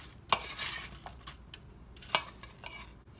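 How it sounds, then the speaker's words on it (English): Apple slices tossed with lemon juice in a bowl give a few sharp clinks and soft scraping stirs, close and sparse, with quiet gaps between. "we're going to add the lemon juice and toss that"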